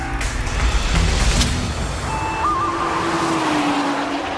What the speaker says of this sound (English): The run through the countryside tests the car's handling abilities.